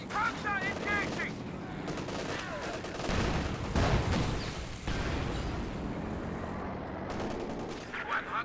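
Dense gunfire from a Company of Heroes 2 tournament battle, rapid machine-gun bursts and rifle shots rolling continuously over several seconds with a few heavier blasts, while a voice line and commentary run underneath.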